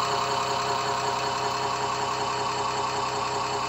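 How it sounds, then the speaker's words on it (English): A homemade BLDC hub motor generator runs at idle, producing a steady, continuous mechanical hum and whir with a fine rapid pulsing texture, close and constant throughout. "I've got the hub motor idling."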